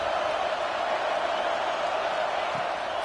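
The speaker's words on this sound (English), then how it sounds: "The Tide crowd rolling noise down on the Saban field on 3rd down." Steady roar of a stadium crowd in a college football video game, a dense continuous wash of massed voices on third down at an Alabama home field, loud and unbroken throughout.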